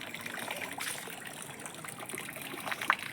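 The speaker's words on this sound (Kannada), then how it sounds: "ಇಲ್ಲೆಲ್ಲ ನೀರು ಹಿಡ್ದೀನಿ ನೋಡ್ರಿ." Water being filled into containers at a home, a soft continuous trickle and splash heard fairly close, with a small sharper splash near the end.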